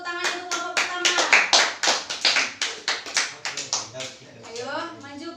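A classroom of pupils claps for the winning group in rhythmic unison, a series of sharp, evenly spaced hand claps in quick bursts with a brief pause and a final flurry.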